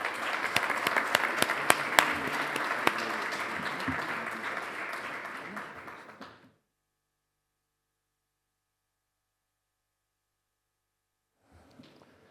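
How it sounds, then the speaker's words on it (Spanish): Audience at a first amendment awards ceremony applauding an honoree, dense clapping for about six seconds that fades into silence, followed by a faint return of sound near the end. "me alegrará que todos le rindamos un fuerte aplauso"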